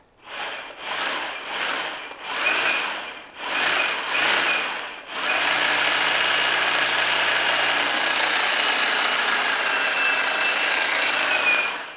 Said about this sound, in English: now that you're going to be cutting, remove your sleeve and then get to work